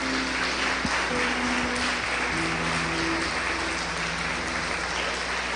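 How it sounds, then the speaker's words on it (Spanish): A church congregation applauding during a Spanish-language worship service, with dense, continuous clapping from many hands that holds steady and loud throughout. "Den un aplauso al Señor."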